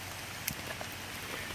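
Rain falling steadily outdoors at a shooting range, a soft continuous patter with a few louder drops standing out, fairly even throughout.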